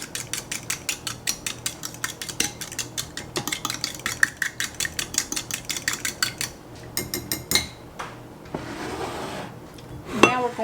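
A utensil whisks sugar and vanilla in a bowl for vanilla pancake batter, a fast regular clatter of metal against the bowl's sides that slows and shifts near the end, close and alone.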